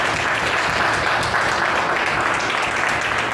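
A congregation applauds steadily throughout a church worship service, a dense, continuous wash of many hands clapping at even loudness with no talk over it.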